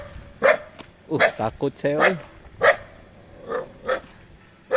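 A dog barks several times in short bursts outdoors in a village, close by, mixed with a person talking nervously over it.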